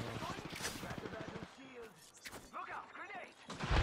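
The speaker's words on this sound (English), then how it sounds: "Someone's shooting him." Rapid bursts of automatic gunfire crackle through a battle royale video game match, dense and loud at the start and returning in spurts, with players talking over the shooting.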